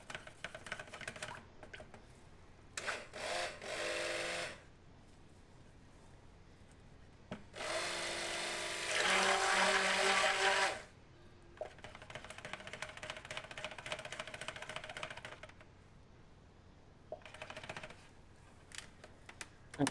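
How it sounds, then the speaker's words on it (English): A small batch of cold process soap batter made with castor, olive and palm oil is blended to light trace, heard as loud bursts of a stick-blender whir broken up by quieter pauses and gentle rubbing. "So I'm just mixing it, bringing it to a nice light trace"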